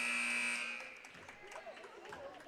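End-of-quarter buzzer at a girls' high school basketball game sounds as a loud, steady electronic tone for about half a second, then gives way to gym noise and a commentator's voice.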